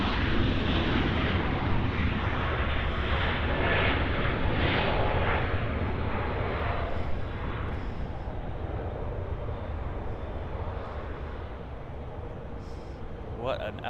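Jet airliners roar at Los Angeles International Airport, one arriving and one departing, a loud, broad engine rumble that slowly fades over several seconds while people talk over it.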